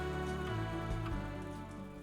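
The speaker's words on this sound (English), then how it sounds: "the rains came" Steady rain falls on a dry seven-acre homestead, a dense continuous patter that stays loud and even throughout, with no voices over it.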